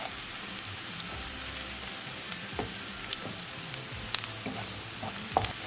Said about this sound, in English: Cooking onion for 3 minutes. I'll add all the spices: black pepper, coriander powder, turmeric powder, salt, red chili flakes.